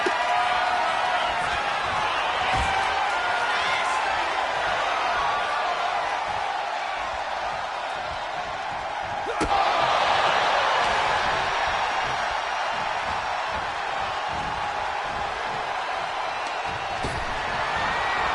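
At a wrestling match, a steady crowd roar with occasional whoops and swells runs continuously in the background while a commentator talks over it.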